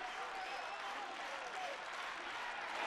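An Italian crowd at an Italy versus Spain baseball Olympic qualifier cheers and applauds steadily as a dense, continuous wash of noise, with a commentator faintly talking underneath.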